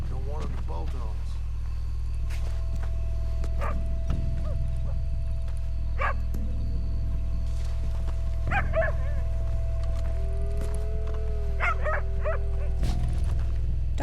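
Dog barking in Red Dead Redemption 2, a handful of scattered short barks and yips at middle distance over a steady low hum, with a voice speaking in between.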